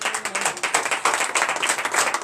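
A church congregation bursts into dense, continuous applause, many hands clapping together in a steady, lively patter that holds evenly throughout with no voices above it.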